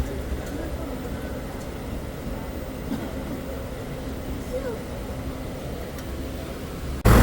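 A steady rumbling roar of a train rolling along the tracks in Kerala, constant and fairly loud, with a sudden louder jolt right at the end.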